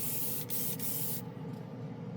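Paint hisses from a spray can in a loud continuous burst, with two brief breaks, then stops abruptly and leaves a quieter hiss.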